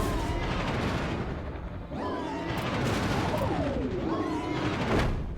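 Gunshots in the video game Kirby's Return to Dreamland Deluxe, booming blasts over a busy layer of game music and effects, with a couple of rising and falling sweeps in between.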